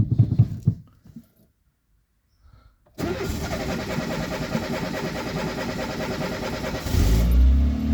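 A Peugeot Junior with the choke fully out cranks and catches after a short quiet pause, then settles into a loud, steady, slightly rough idle that swells near the end, close by.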